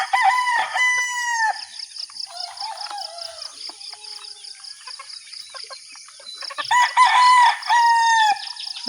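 Backyard chickens cluck and a rooster crows loudly nearby, with a crow at the start and another near the end, and softer clucking and fowl calls filling the gaps between them.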